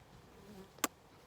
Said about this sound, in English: Busy, busy bee.